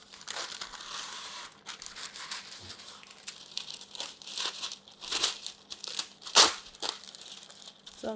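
Parchment paper crinkles and crunches in bursts while being laid over a baking tray for rolled butter cookies, with close, dry crackling rustles and one sharp louder crumple near the end.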